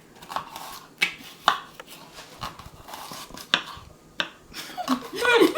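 A knife slices a jalapeno on a board, producing a run of crisp, uneven taps and cuts, close and moderately loud, with people talking over it.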